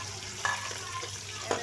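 Onions fry in hot oil in a pot while a Pakistani black chickpea and potato curry is cooked. A steady close sizzle runs throughout, with a couple of faint stirring clicks.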